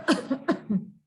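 A voice imitates a cough: four short, sharp, rasping coughs in quick succession, close and fairly loud against silence.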